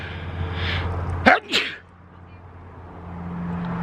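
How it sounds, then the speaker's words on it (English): A single sharp, loud sneeze bursts out close up, followed by a low steady hum. "saying bless me after every sneeze"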